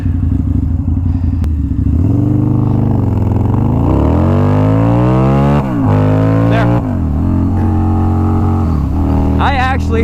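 Chrome Harley-Davidson motorcycle exhaust revving hard and accelerating through rising, falling engine sweeps, loud and close, with a brief gear change midway and a voice briefly heard near the end.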